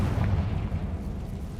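A Confringo fire spell explodes in the Hogwarts Legacy video game, a loud, heavy low boom that rumbles on without a sharp decay for under two seconds, with no talk over it.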